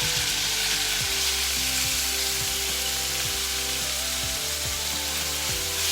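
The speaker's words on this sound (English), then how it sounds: "I will stir it on high heat, on high flame. We will just keep tossing and turning." Beef tenderloin frying on a high flame in a pan, a loud steady sizzle with repeated tossing and stirring strokes, close up and continuous.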